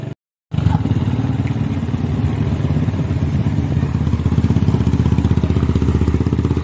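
Motorcycle engine running close by, a steady throbbing putter with fine rhythmic pulses after a brief silent gap at the start.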